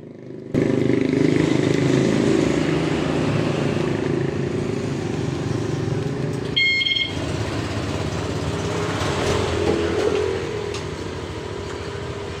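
A Honda Vario 2025 motorcycle engine starts and runs at a steady close idle during an alarm test, with a brief electronic beep partway through.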